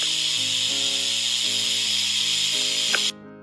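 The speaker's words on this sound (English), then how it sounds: "That is the sound of the rattlesnake." A rattlesnake shakes its rattle in a steady, continuous high buzzing hiss that holds for about three seconds and then cuts off abruptly, loud and close with no voices.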